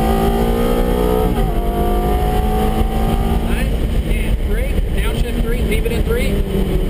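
A car accelerates hard on a race track with the throttle fully open, its engine note climbing steadily, loud and close from inside the cabin while a voice talks over it.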